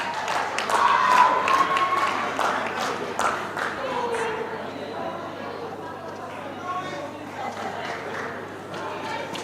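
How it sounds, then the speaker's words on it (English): Audience applause and cheering at a live pageant in a hall, a dense patter of clapping that is strongest early on and then thins, mixed with crowd noise while a host keeps talking over it. "Let's have an applause."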